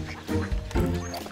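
Ducks quack at feeding time in a children's animal-learning setting: a couple of loud, close, nasal quacks in quick succession.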